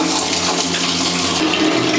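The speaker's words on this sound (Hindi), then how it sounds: "ये रहा हमारा पेडिक्योर करने का बकेट और अब इसमें हम पानी फिल करेंगे।" Water pouring steadily from a tap into a pedicure bucket, a continuous even splashing rush that stays close and fairly loud throughout, with no talking.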